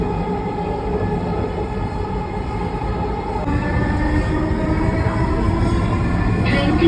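A Dhaka metro rail train runs with a steady, close rumble and a hum that grows slightly louder halfway through.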